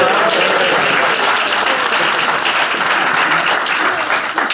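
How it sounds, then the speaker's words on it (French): An audience at a children's stage presentation of Little Red Riding Hood bursts into dense, loud applause, continuous clapping from many hands filling the room throughout. "Petit main d'applaudissement pour nos pères."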